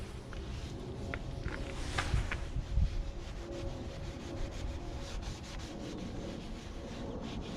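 A rag rubs transmission fluid onto a John Deere 2320 tractor, giving a faint, steady scrubbing swish close by with a few light knocks and no talking.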